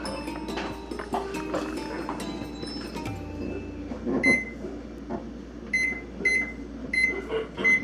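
An oven timer is set in a home kitchen while baking coconut pie, with quiet clatter and handling noises followed by a series of short, sharp electronic beeps in the latter half.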